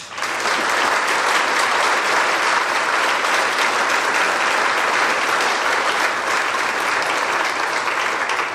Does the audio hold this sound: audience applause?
yes